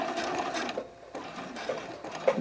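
A sewing machine stitches the cradle of an Iris bralette, running in steady bursts with brief pauses as it nears a pivot point, close and clear with no talking.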